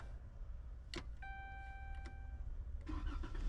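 A 2013 Dodge Charger cranks and starts with a chime tone, then settles into a low idle rumble, heard close with no talking.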